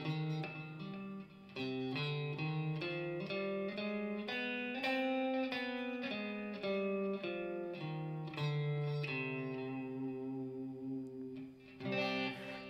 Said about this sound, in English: C harmonic minor is a minor scale that sounds like this.